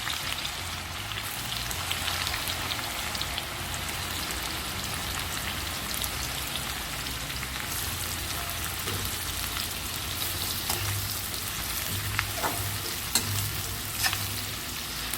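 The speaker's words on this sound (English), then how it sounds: "On a high flame, fry these onions till it gets brown." Onions fry on a high flame in hot oil, a steady dense sizzle and crackle running the whole time with scattered sharper pops, close and unbroken, with no talking.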